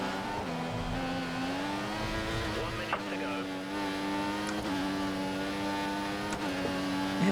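Race car engine in the F1 2014 video game at the Chinese GP qualifying, a steady high harmonic drone that shifts pitch with gear changes and revs, continuous and loud throughout, with brief tire noise.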